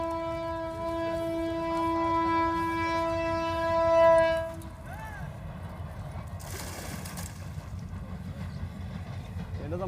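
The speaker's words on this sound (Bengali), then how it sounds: "এটা তো মালগাড়ির মতো রে" A goods train sounds a long, steady horn before rumbling past along the rails at a distance, with a continuous low roll that carries on after the horn stops.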